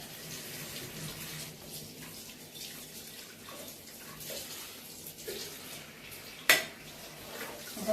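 Dishes being rinsed under a running kitchen tap, a steady broadband wash of water with faint clinks of plates and cutlery, ending in a sharp clatter near the end.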